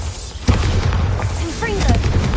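A Bombarda spell explosion in a wizard video game lands as a loud booming blast amid a dense, rumbling game soundscape, with a voice speaking over it.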